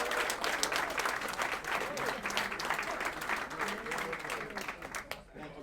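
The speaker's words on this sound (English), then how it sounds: "Let's give a round of applause for Dr." Applause from the audience at a Rotary club lunch meeting, welcoming a new member: sustained, dense clapping across a room that tapers off near the end, with some voices mixed in.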